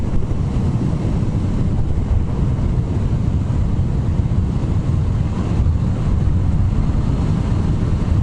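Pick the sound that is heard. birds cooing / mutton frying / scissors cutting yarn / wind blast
wind blast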